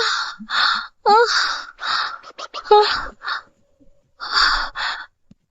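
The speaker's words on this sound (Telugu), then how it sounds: "ఏంటి అంత గట్టిగా గాలి పీల్చుకుంటున్నావు? ఎందుకే అంత ఆయాసపడుతున్నావు?" Heavy gasping and panting breath in a Telugu TV drama scene: a string of loud, close, ragged gasps broken by short pauses.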